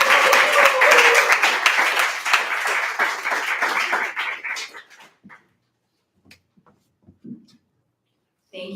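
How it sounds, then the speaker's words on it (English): Warm round of applause from a standing audience at a poetry reading night in a pub, loud dense clapping for about five seconds that thins out into a few scattered claps before falling silent. "I want us to give a warm round of applause for our first reader"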